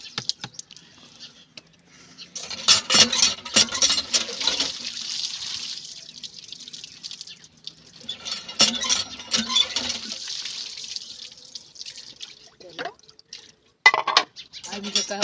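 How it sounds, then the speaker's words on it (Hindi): Water running and splashing as spinach is washed at home, in irregular bursts of rinsing with pauses between them, close and fairly loud, with people talking now and then. "अभी जो कहोगे सारा दिन पालक धोती रहोगी"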